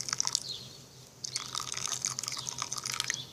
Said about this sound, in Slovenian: In potem prelijemo z vrelo vodo.